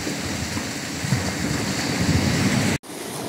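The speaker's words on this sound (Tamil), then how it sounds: "என் பின்னாடி பாருங்க, செம்ம அலை." Sea waves wash steadily on Poompuhar beach in Tamil Nadu, a continuous loud roar of surf with wind noise and no talking, cutting out abruptly for a moment near the end.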